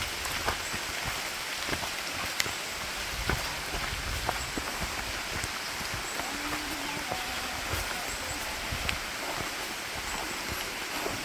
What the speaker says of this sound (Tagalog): Ulan na eh.